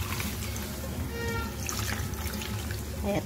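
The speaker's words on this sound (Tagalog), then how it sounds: "Lagyan natin ng konting tubig." Water is poured into a pan of cooking mussels with tomato, giving a steady trickling splash under a constant bubbling, hissing wash of kitchen noise.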